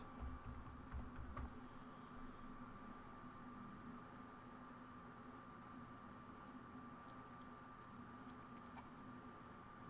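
Typing text on a computer keyboard while working in Photoshop CS6: quiet, rapid key clicks in short bursts, faint against steady background hiss.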